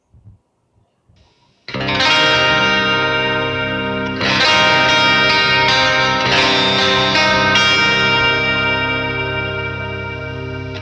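A clean Jackson electric guitar on the bridge outer-coil pickup rings out in sustained, shimmering chords with chorus-like effect, loud and close, strummed a few times and left to ring.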